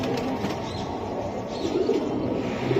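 Pigeons kept in a loft coo in low, rolling murmurs against a dense, steady background hum, close and continuous, with no clear talking.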